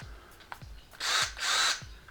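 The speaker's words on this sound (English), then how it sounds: "I got my drill," A power drill, used to join two pieces of wood, whirs in two short loud bursts after a few faint clicks and knocks.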